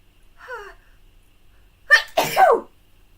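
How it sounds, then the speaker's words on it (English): A woman gives a single sharp, loud sneeze close to the microphone during a live crafting session, preceded by a faint breathy intake in otherwise quiet surroundings. "Going to sneeze."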